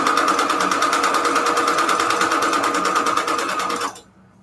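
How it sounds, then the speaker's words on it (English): A sewing machine stitching, used for junk journal crafting, runs at a steady rapid mechanical rhythm, loud and close, then stops abruptly near the end. "I don't use my sewing machine exclusively for fabric or anything."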